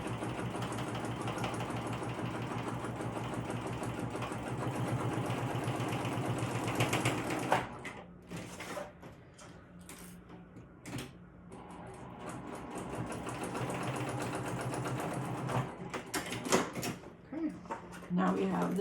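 Sewing machine stitching through bulky bag seams, a loud steady motor-driven whir that stops and restarts in short bursts, with a person talking between runs.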